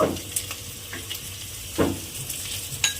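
A tomato and salt masala fries in a pan, giving a soft steady sizzle with a few sharper scrapes of stirring, close and moderately quiet.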